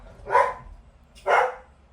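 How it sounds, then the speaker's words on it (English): A dog barks twice, close and fairly loud, with a short pause between the two sharp barks. "barking for her daddy"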